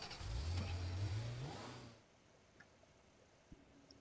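Cartoonish car engine in the abstract indie video game Miffhuff, revving upward in pitch for about two seconds before cutting off, followed by quiet ambience and a couple of small blips.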